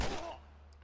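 A single gunshot in The Last of Us, a game played on grounded difficulty, cracks sharply at the start and then decays quickly into a brief, fading tail.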